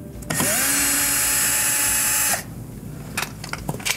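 A power drill backs out the Phillips screws on the bottom access panel of a Samsung dishwasher, giving one close, loud, steady whir of about two seconds, followed by quieter handling clicks and taps.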